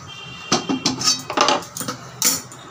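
A metal kadai is set down on the stove, giving a few close clanks and scrapes of metal on metal, with short clinks in between and no talking.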